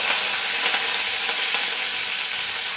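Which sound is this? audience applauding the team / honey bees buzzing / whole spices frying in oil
whole spices frying in oil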